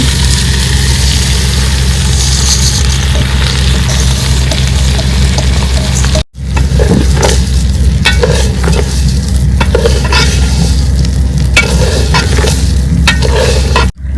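Lentils, chopped tomato and rice stirred and frying in a hot pan for khichuri, a loud continuous sizzle with scraping stirs and a low steady hum beneath, briefly cut off near the middle.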